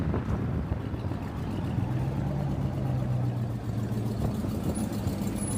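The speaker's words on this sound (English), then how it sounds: "You hear the exhaust?" A Jeep Trackhawk's exhaust idles with a low, steady burble that stays even throughout, moderately loud and mixed with faint outdoor background noise, no talk.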